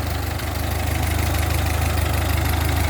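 A Ford 2N tractor engine idles steadily at close range, a loud low rhythmic chugging with even pulses and no talk.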